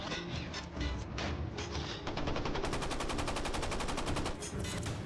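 Escort ships fire machine guns at a submarine at night in World War II: loud, continuous rapid bursts with a dense rattle that turns into a fast, evenly spaced stream of shots.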